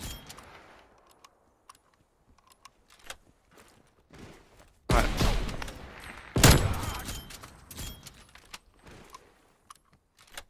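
Video game gunfire crackles in sharp scattered shots, then two loud, dense bursts of automatic fire in the middle, followed by more sporadic single shots.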